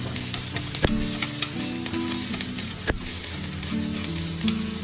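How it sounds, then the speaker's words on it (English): Bell peppers, onion and spring onions stir-frying in a pan with topside beef to follow, a steady sizzle broken by the clack of a utensil scraping and tossing, plus a couple of sharper knocks; nobody talks. "add the onion and the spring onions. Stir them until the fragrance comes out from the onions."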